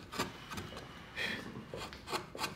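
Edges of a carved wooden love spoon being shaped and bevelled with a hand tool, giving several short, close rasping scrapes in an irregular rhythm, quiet and alone.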